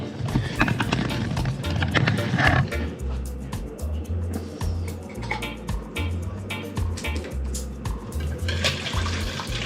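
A whisk beats a mojito marinade for pork shoulder in a bowl, giving a continuous, fairly loud scraping and sloshing with a rapid rhythmic beat and no voices.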